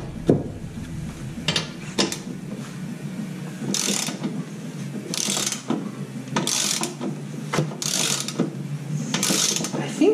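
A hand ratchet clicks in quick repeated bursts while bolts are tightened on a Honda lawnmower, close and crisp, with short pauses between strokes and faint breathing or movement around it.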